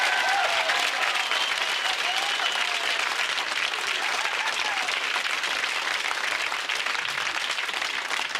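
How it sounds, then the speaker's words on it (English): Studio audience applause for contestants on a lottery game show, a loud continuous wall of clapping and cheering that holds steady from start to finish. "Can we have a big round of applause, please, for our contestants who are taking part in tonight's show?"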